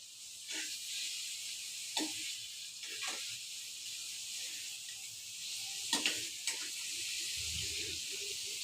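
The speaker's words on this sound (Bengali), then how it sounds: "এগ আর সবজি যেন সুন্দর করে মিক্সড হয়। নড়ে না তো, নিচ থেকে উপরে নাও।" Egg and vegetables fry in a pan with a constant quiet sizzle while a utensil scrapes and stirs in occasional short strokes, close by, with no voices.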